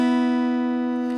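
Open B and high E guitar strings ring out together in one sustained, bright chord, close and loud with a slow gentle decay and no voices.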